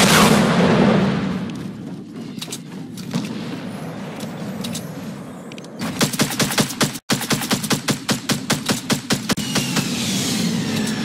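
Rocket launcher blasts and rapid gunfire in a Fortnite battle royale match, a dense rumbling barrage giving way to a fast train of sharp, loud repeated shots with brief gaps.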